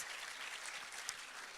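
Audience at an evening awards ceremony applauds in a steady, fairly faint wash of clapping that holds throughout, with no voices over it.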